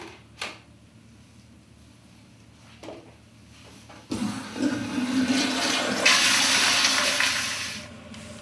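A toilet flushes after measured urine is emptied into it during patient intake-and-output care: a short knock, then a loud rush of water that swells and churns for several seconds. No one speaks.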